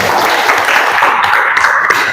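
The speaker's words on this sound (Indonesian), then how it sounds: "kasih tepuk tangan" A classroom audience claps together in a brief, loud, continuous burst of applause with no talking over it.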